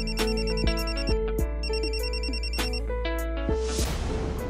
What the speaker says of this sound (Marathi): चक्क रितूचा फोन कट.